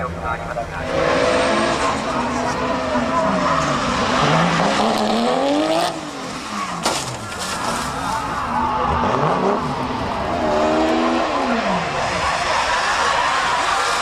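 A drift car at the D1GP event at Sugo understeers with its engine loud and wavering, revving up and down repeatedly while the tyres squeal. A commentator talks over the car noise.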